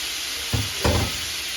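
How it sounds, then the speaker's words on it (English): Ground beef and ground pork cooking with onion in a pan give a steady low sizzle, broken by two brief louder bursts as the meat shifts, with no voices. "I'm going to put the ground beef and ground pork, because the onion and ground pork, they have to cook with the onion"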